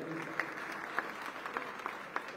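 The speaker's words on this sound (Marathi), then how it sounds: "जोरदार टाळ्या वाजवायच्या।" Applause at a public inauguration event in Mumbai, steady clapping from a crowd, heard from a distance and moderately loud, with a few sharper claps standing out.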